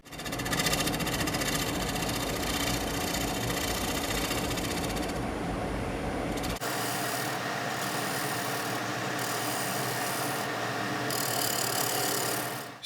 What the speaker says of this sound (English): I'll finish up the bottom of the bowl and then finish with a